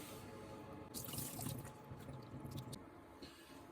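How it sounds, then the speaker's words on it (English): Water drains off a bowl of cooled tofu in a kitchen, a soft, close trickle and splash that swells briefly in the middle before settling back to a faint wet rustle. "When the tofu is cooled, drain the water."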